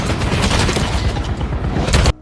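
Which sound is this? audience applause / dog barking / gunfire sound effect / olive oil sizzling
gunfire sound effect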